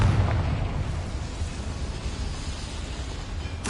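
A Confringo fire-spell blast goes off in the Hogwarts Legacy video game, a loud booming burst that rolls into a rumbling, slowly fading roar without speech.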